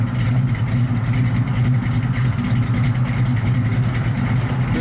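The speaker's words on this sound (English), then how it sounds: "full exhaust all the way out the back with duals. Super strong running car." A 1972 Chevrolet Nova SS with a 383 V8 idles with a deep, steady rumble through full dual exhaust, a loud, close, even burble that holds for the whole stretch without revving.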